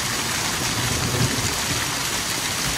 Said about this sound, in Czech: Pořádný kroupy.